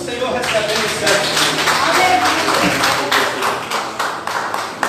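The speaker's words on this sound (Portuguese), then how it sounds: "Aplauda o nome do Senhor" A church congregation claps loudly in a steady, even rhythm, many hands striking together in a strong pulse through the full stretch, with voices mixed in underneath.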